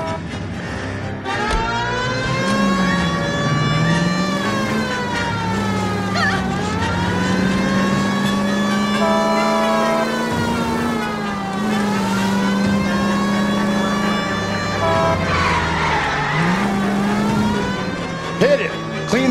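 A car is driven hard in the video game L.A. Noire, its engine droning and revving up and down in pitch with tire skids and squeals, loud and continuous, while voices talk over it at moments.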